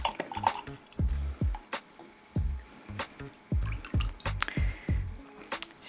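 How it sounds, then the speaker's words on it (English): Mirin, a sweet Japanese cooking wine, pours into a ramen chashu braising liquid in a series of glugging drips and splashes, close and fairly loud, with repeated short bursts throughout. "And we're gonna do 100 milliliters of this."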